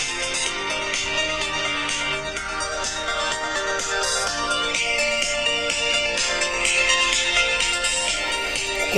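A song plays loudly at full volume through the bottom-firing speaker of an Oppo Find X smartphone, a dense, continuous stretch of music with no pauses.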